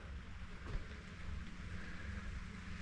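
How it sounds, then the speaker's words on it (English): Steady rain drumming on a standing seam metal roof of an A-frame cabin, heard from inside as a dense, continuous hiss and patter with no pauses. "The sound of that rain on the roof is really,"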